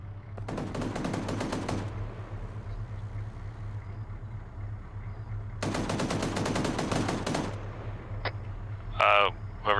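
Gunfire in the military game Arma 3, two long bursts of rapid automatic fire a few seconds apart, moderately distant, followed by a short sharper burst over a steady engine-like rumble.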